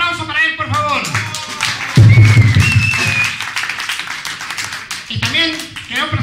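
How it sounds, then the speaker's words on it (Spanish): An audience on a live local television variety show applauds the cameraman, a burst of close, loud clapping rising and sustaining over several seconds, with a host speaking over it and a brief whistle. "Un aplauso para él, por favor."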